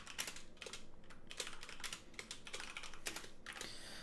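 Fingers type on a computer keyboard in quick, uneven runs of crisp key clicks. The sound is close and quiet, with no voices, and brief pauses break up the bursts of keystrokes.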